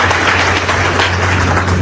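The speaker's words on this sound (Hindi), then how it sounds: "इनके लिए जोरदार ताली बजा दीजिए" An audience at an education event bursts into loud, sustained applause for a woman official, clapping densely and evenly, close and continuous throughout with a low steady hum underneath.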